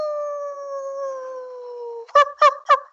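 A man imitates a dog howl with his voice, one long steady wavering tone held for about two seconds, followed by three short yelping barks, close and alone with no other talk.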